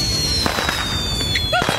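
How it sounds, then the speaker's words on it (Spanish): Scattered fireworks pop and crackle at a distance, several quick bursts with a few whistling streaks, over a constant background hum. "Esos son cohetes! ¡No todos son tiros, Cachetes!"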